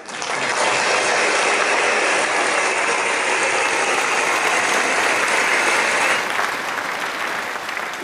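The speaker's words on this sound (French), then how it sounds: "Elle peut vraiment applaudir." Loud, sustained applause from an audience at an African thanksgiving event, a thick wash of many hands clapping that holds steady throughout and tapers slightly at the end, no speech on top.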